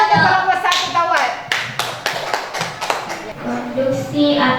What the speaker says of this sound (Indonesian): Tepuk tangan dulu untuk kelompok 1 kawan